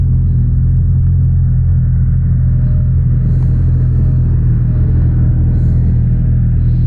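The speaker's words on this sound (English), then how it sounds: "And there goes the Matane groomer, PB400 like we're used to." A PB400 snow groomer rumbles past on a snowmobile trail near Matane, a loud, steady low drone that fills the whole stretch with no break.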